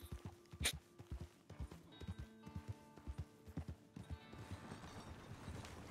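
Hooves clip-clop at a steady walking rhythm in Red Dead Online, a close sequence of hollow thuds, with one whinny early on, creaking wagon mechanics and faint background tones.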